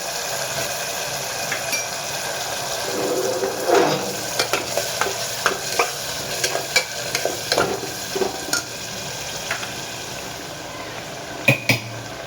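Potatoes fry and get stirred through a spice paste in a pan, with a steady low sizzle and a run of scraping stir strokes clustered in the middle and again near the end.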